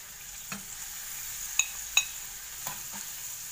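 Spices fry in a hot pan with a steady soft sizzle. A utensil stirs and taps against the pan several times, with two sharper metallic clinks standing out near the middle.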